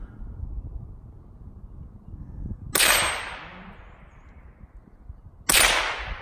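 Two sharp, loud rifle cracks from a Marlin Model 60 rimfire rifle fired at targets outdoors, a few seconds apart, each with a brief trailing echo over wind noise.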